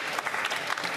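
Members of the House of Commons applaud in a dense, even burst of clapping that fills the chamber, with no speech over it.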